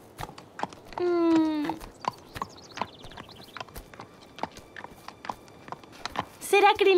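Hooves clop in a steady walking rhythm close by, with a horse's whinny partway through and people talking over it.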